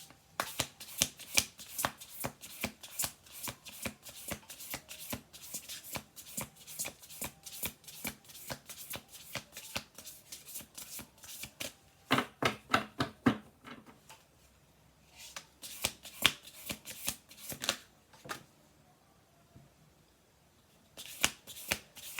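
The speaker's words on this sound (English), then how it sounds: "So we're going to do 2 more shuffles." Cards are riffled and shuffled again and again, quick rapid clicks in repeated bursts with short pauses between, close and fairly quiet.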